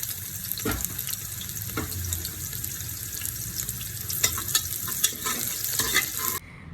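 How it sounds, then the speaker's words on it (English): Onions frying in oil with cinnamon and cloves in a pressure cooker, a close, steady sizzle with scraping stirs and clinks of a spoon, ending abruptly. "Then add the onions and let them fry for a minute."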